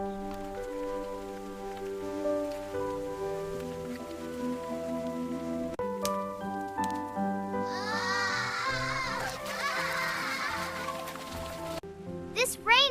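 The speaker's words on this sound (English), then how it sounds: "This rain is fun." Rain falls during an animated, Ghibli-style family road trip with a mobile home, a soft patter running beneath tonal music and voices.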